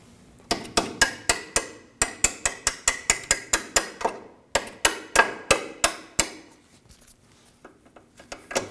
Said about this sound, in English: We use a punch and a hammer to remove the lower bolt.